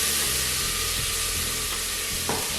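Minced garlic and onions fry in a pan with a steady, close sizzle and crackle, and a few soft clicks of stirring come through without any talk.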